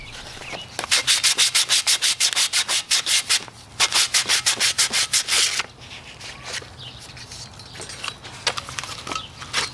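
A surface for a homemade Christmas lantern is scuffed with sandpaper before painting: two bursts of quick, rhythmic back-and-forth rasping strokes, loud and close, followed by softer, irregular rubbing.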